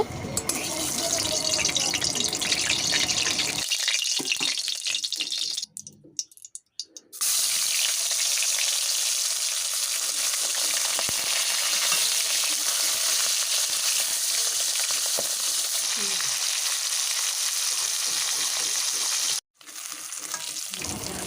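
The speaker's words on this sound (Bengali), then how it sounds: "তেলটা খুব ভালোভাবে গরম হয়ে গেছে ওর মধ্যেই মাছগুলো ভেজে নেব" Steady, loud sizzling and crackling of fish frying in hot oil, continuous throughout with two brief drops in sound.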